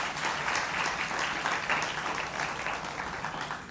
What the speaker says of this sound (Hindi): एक बार फिर तालियों के साथ स्वागत करिए काजोल देवगन का